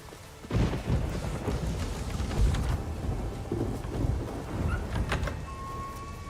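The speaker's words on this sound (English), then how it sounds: "raining again." Heavy rain pours steadily in The Witcher 3, with a deep rolling rumble of thunder swelling and fading through the downpour, and no talking.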